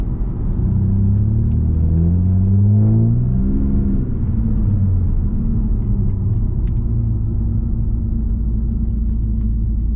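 A tuned car engine, check engine light on, revs up and down in rising and falling sweeps over a constant deep rumble, close and loud, then settles to a steady idle.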